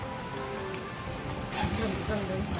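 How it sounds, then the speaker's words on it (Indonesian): Light drizzle patters steadily on surfaces outdoors under an overcast sky, a soft continuous hiss that sits low in the background with no talk. "kondisinya mendung sekali dan sedikit gerimis"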